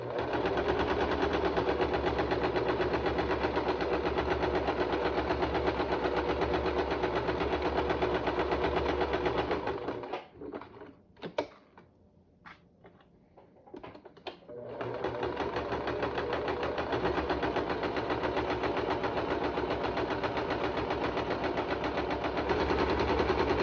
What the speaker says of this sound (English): Basically just sewing all 4 edges.